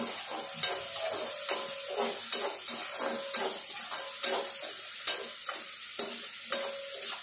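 Frozen peas sauté in oil in a pan for samosa filling, giving a constant sizzle broken by a regular rhythm of stirring scrapes and taps.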